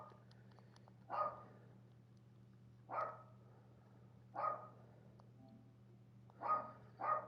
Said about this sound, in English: Got my dog barking in the background